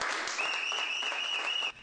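An audience applauds after a doctoral thesis is accepted, a dense steady wash of clapping that holds level throughout and drops off abruptly near the end.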